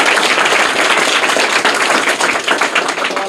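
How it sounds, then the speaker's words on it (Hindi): A class of students applauds loudly for a correct answer in a school quiz, a dense, close burst of clapping that carries on steadily without speech. "जोरदार तालियां इनके लिए, बिल्कुल सही जवाब है।"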